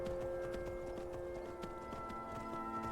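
A horse's hooves clip-clop in a steady, even rhythm while riding in the video game Skyrim, fairly quiet beneath sustained ambient music tones.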